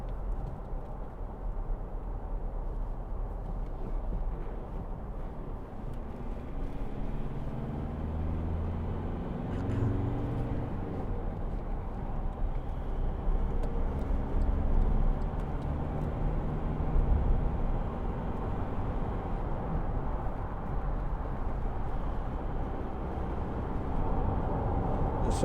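Steady low engine and road rumble from a 2012 Volkswagen Amarok 2.0 BiTDI Trendline pickup cruising on a motorway, a continuous drone with no talk.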